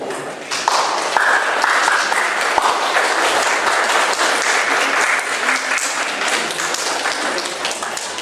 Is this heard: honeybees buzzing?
no